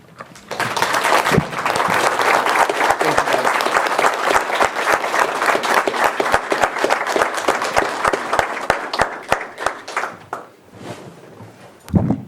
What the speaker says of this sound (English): let's give a special round of applause to this department